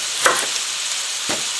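Onions sizzle in a pan with a steady, loud hiss of frying, broken by two brief clatters of a utensil, heard close and without speech.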